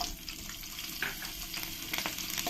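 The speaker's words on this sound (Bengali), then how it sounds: "এবার আমি এই তেলের মধ্যে এই যে আলুগুলো আমি কেটে রেখেছি এই আলুগুলো আমি ভেজে নেব" Cut potatoes frying in hot oil, a dense continuous sizzle close up with a few stirring scrapes near the end.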